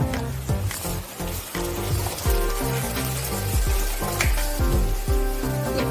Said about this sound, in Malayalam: ഇനി സമയത്ത് നമുക്ക് ഇതിലേക്ക് കറിവേപ്പില ചേർത്ത് കൊടുക്കാം